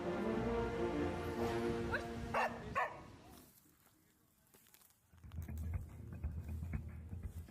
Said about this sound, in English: a highly trained sniffer dog and used to detect explosives in the overhead luggage